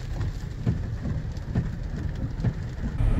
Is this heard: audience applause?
no